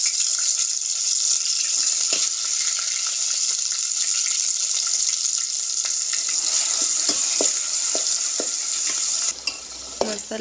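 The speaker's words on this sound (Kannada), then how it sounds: "ಇದನ್ನ ಸ್ವಲ್ಪ ಚಂದಾಗಿ ಫ್ರೈ ಮಾಡಿ" Mutton curry masala fries in a pan with a constant bright sizzle, broken by occasional soft scrapes and knocks of stirring, and no talking.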